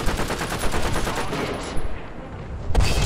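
Tank combat in the War Thunder video game brings loud, rapid bursts of gunfire that rattle in dense volleys, then thin out before a final sharp shot near the end.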